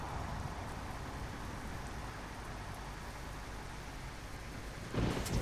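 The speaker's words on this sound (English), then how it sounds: "Rain and the lightning." Steady rain pours in Euro Truck Simulator 2, a dense even hiss with low thunder rumbling underneath, swelling briefly louder near the end.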